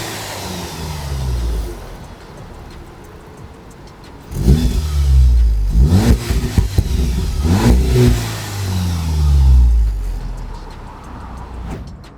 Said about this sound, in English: this is what the exhaust system sounds like now.